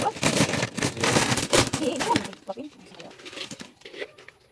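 Coins are poured out of a jar, giving a dense, loud clatter of metal pieces tumbling for about two seconds before settling into scattered clinks and a quieter stretch with faint background sounds.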